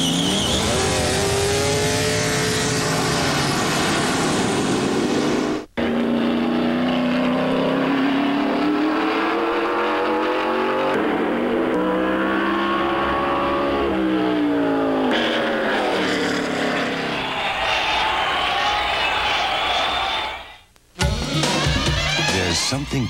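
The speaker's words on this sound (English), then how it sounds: "He's driving the 670 horsepower Budweiser Thunderbird." A 670-horsepower Budweiser Ford Thunderbird stock car roars at full throttle during a 1992 NASCAR race, loud sustained engine howl with rising and falling pitch as it runs, sharp cuts between passes.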